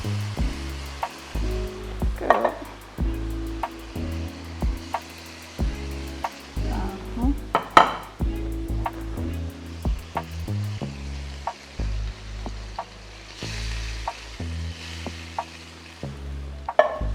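Tomato sauce pours into a pan of simmering three-meat spaghetti sauce, with steady sizzling and stirring scrapes close by under a low hum, nobody speaking.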